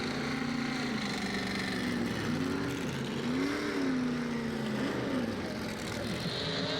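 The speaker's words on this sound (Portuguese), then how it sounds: "O ronco dos motores." Stock Car race engines roar at a circuit, a continuous loud drone with rising and falling pitch as cars pass, steady with no talk over it.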